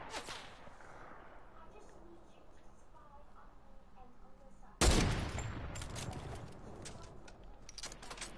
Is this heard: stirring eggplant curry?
no